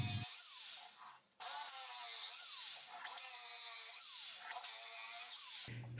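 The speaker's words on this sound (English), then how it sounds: "This is a cheap hole saw I used to make the wheels. I drilled halfway in." A cheap hole saw drills into wood to cut toy car wheels, a steady high whining drill with rising and falling pitch sweeps, briefly stopping once, close and continuous.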